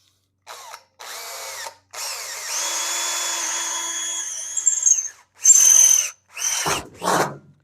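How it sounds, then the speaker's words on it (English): Power drill boring holes in an electrical panel while a generator interlock is fitted: several short whining bursts, then a longer sustained run with a slowing pitch, and more short bursts at close range. "Let's drill our holes here."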